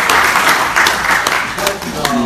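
A room of listeners applauds Ahn Cheol-soo at his 2017 People's Party leadership-bid press conference, with loud, sharp individual claps standing out over a busy crowd clatter throughout.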